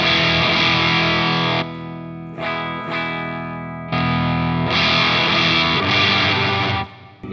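Loud electric guitar through a Tech 21 Richie Kotzen RK5 Fly Rig multi-effects pedal with the boost pushed to maximum, thick sustained chords struck in a few bursts with short gaps, slightly gritty and saturated, loud enough to clip.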